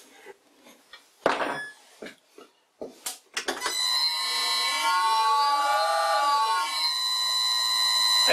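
An old lathe's motor runs while its belt slips on the small pulley, producing a loud steady whine with a squealing pitch that dips and rises, after a few knocks and clunks.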